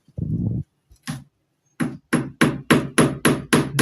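A nail is hammered into a wall to hang a metal photo frame: after a dull knock and a pause, about eight sharp, evenly spaced hammer blows ring out close and loud, with no talking.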